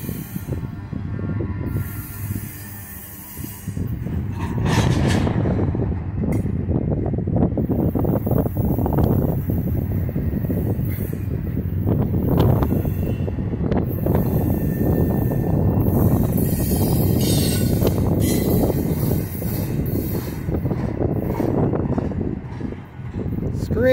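Norfolk Southern 22K freight train passing through Binghamton, New York, a continuous loud rumble and clatter of rail cars rolling close by, with hiss and some wind noise.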